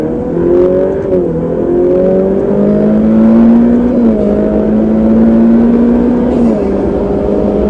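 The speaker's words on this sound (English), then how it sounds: "This turbo engine is so responsive, it's so quick." A Ferrari F8 Tributo's turbocharged engine revs and accelerates hard, its loud rising tone climbing through gears with brief shifts in pitch, heard from inside the car without talk.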